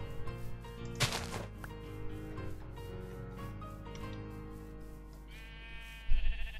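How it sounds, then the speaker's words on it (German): A sheep bleats in Minecraft. A drawn-out in-game bleat sits over steady game music, with a brief rustling thump near the end. "Schaf ist zwar ganz hübsch."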